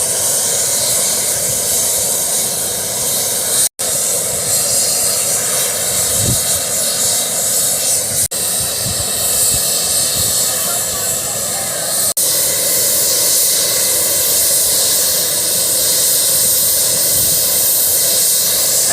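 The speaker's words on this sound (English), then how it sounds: "Lots of steam and smoke." Continuous loud broad hiss of venting steam from a locomotive, roaring steadily for the whole stretch with a few brief dropouts, near and dominant, with faint indistinct voices at times.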